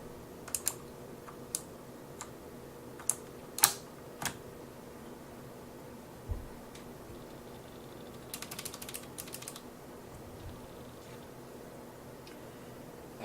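Sharp, clicky keystrokes on a Tomoko RGB backlit mechanical gaming keyboard with blue switches ring out in scattered single taps and a brief quick burst, close and crisp against a quiet room.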